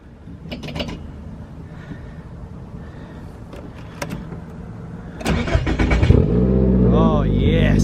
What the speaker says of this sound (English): Let's go ahead and start this car up.